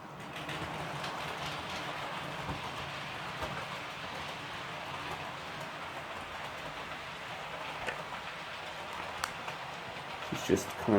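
Model Class 66 locomotive grinding steadily around a model railway layout, a continuous gritty mechanical whir at close range with a few clicks near the end.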